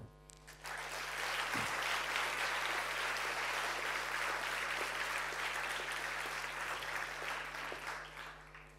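Sustained audience applause at an Estonian young achievers award ceremony, a dense wash of many hands rising quickly and holding steady for several seconds before tapering near the end.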